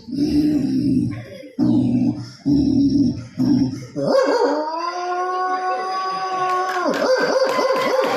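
A man imitates a dog, giving four short gruff barks and then a long, wavering howl that trails into choppy yelps.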